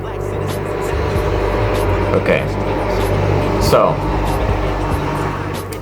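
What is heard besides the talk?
car driving past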